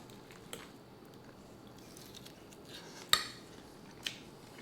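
A tofu poke bowl eaten with cutlery, with a few soft utensil clicks and light scraping against the bowl over a quiet room hiss, and one sharper tap near the end.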